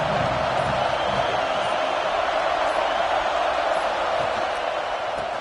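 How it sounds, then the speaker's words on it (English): A steady, loud roar of a packed football stadium crowd at the USDA vs LSU game, a constant wash of cheering and noise with no clear breaks, and no distinct voices standing out. "This crowd ready to make its presence known"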